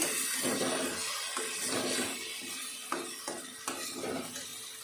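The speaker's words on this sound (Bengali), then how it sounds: "রাখার পর কড়াই একটু সর্ষে তেলে এটাকে নাড়তে হবে এরকমভাবে নেড়ে" Soaked lentil paste being stirred in mustard oil in a kadai for dhoka dalna, a steady sizzle with soft scraping strokes and a few sharper spoon knocks against the pan, close and alone.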